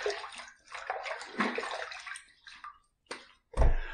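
Water splashes and sloshes in irregular bursts as a face is wetted before a wet shave with shaving soap, close and fairly loud, ending with a sharper splash.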